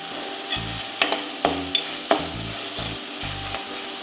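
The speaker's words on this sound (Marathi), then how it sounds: "आता या स्टेजला आपण ह्याच्यात थोडीशी कसुरी मेथी घालूया" Kasuri methi is stirred into a sizzling tomato puree in a pan, with soft frying hiss under several sharp spoon scrapes and taps against the vessel.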